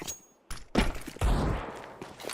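A decoy grenade in Counter-Strike 2 rattles out fake gunfire as a few quick bursts of shots, moderately loud and close, with some thudding in between.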